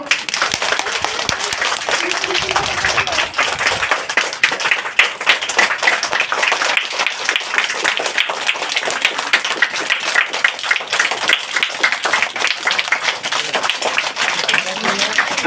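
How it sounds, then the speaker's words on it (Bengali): Children and an audience at a school foundation day celebration clap their hands in sustained, even applause, a steady wash of many close and distant claps lasting the whole stretch without letting up. "প্রত্যেকে হাততালি দাও।"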